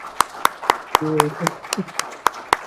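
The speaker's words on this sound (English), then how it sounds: "let's give her a really, really big round of applause for taking time" A few scattered, evenly spaced hand claps from an audience at a North Dakota transportation conference, thanking a speaker, with a brief voice speaking in the middle.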